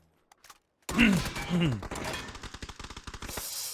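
Rapid bursts of automatic gunfire in the battle royale video game PUBG during a competitive North American esports match, a quick string of sharp shots following an excited commentator's voice.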